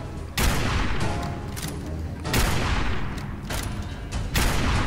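Gunfire in the video game Fallout 4, heavy booming shots in several bursts over a dense, continuous roar of combat noise, loud and close.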